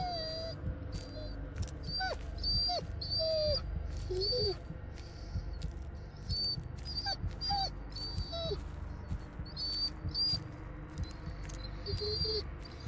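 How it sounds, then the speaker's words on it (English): Dogs in the horror video game Blair Witch, a run of high whimpers and short whines repeating in clusters over a dense low ambient rumble, fairly close, with no talk over them. "Dogs?"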